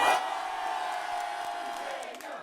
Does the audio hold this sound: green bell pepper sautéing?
no